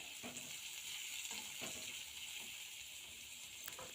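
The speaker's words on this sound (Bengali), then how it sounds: "সকালবেলা ব্রাশটা করেই পাস্তা বসে দিয়েছিলাম হালকা ফ্রাই করে নিচ্ছি" Pasta lightly frying in a pan makes a faint, even sizzle with a few soft stirring knocks spaced through the short stretch, quiet and without voices.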